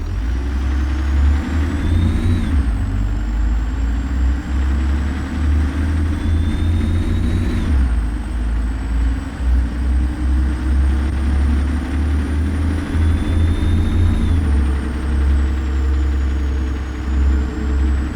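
An RV engine from a mod for American Truck Simulator drones steadily while driving, with loud low rumble, occasional gear-shift dips and rising whine, and no talk.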